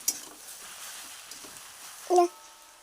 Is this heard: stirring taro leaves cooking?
yes